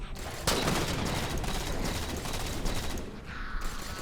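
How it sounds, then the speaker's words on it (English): Sniper rifle fire in Halo 4, a sharp loud crack followed by a dense, rumbling stretch of gunfire and mechanical clatter, with a few more distinct reports later. "you'll notice the sniper rifle sounds a lot different now"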